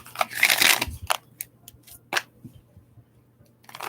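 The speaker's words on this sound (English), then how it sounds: "Let me go ahead and shuffle this deck," A deck of tarot cards is shuffled close by: a quick burst of riffling at the start, then scattered soft snaps and taps of cards in a quiet room.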